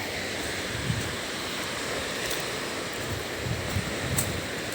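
Sea waves washing steadily onto a beach, a broad continuous hiss and surge with some wind noise buffeting the microphone, close by, with no talking.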